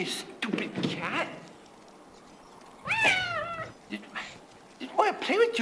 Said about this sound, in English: Yeah, you stupid cat.